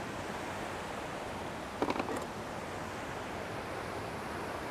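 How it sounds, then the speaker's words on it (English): A creek running strong rushes in a steady, dense outdoor roar, with a brief knock partway through and no voices. "Now you can see this creek is running pretty strong."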